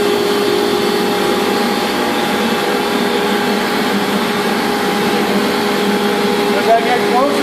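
A banner heat welder runs with a steady, loud mechanical whir and a constant tonal hum while a banner hem is fed through its nip, with a brief bump near the end.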